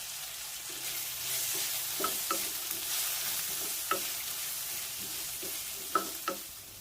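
Vegetables seasoned with turmeric cook in a pan for millet semiya, giving a steady close sizzle broken by a few sharp stirring knocks and scrapes, with no talking.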